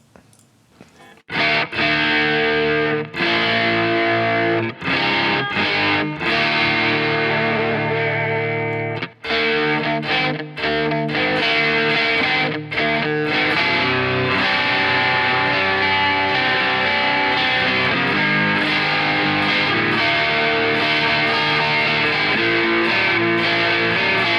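Heavily distorted electric guitar plays dense, sustained chords and riffs at full loudness through a layered rock track, with brief breaks between phrases.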